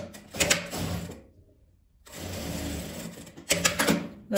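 A sewing machine topstitching to close an opening in fabric, running in steady close whirring bursts with a brief pause midway before starting again, loud and mechanical without speech.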